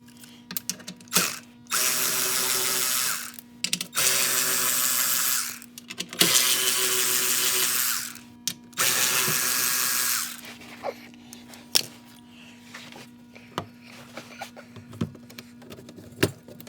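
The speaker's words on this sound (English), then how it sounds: "There's a bunch of 7mm bolts, so we're just going to go ahead and take each one off" A ratchet spins off 7mm bolts from a Chevy Cruze 2.0 diesel's splash guard in several sustained bursts of rapid clicking, close and loud, separated by pauses with small clanks of tools and parts.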